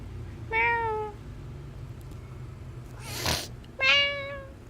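A pet cat with green eyes gives two clear, fairly close meows a few seconds apart, separated by a short burst of rustling noise, with no talking.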